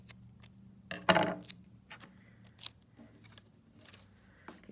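Scissors snip through a piece of tape during a Thanksgiving craft, one sharp close cut followed by a few softer rustles and small handling clicks, with no talking.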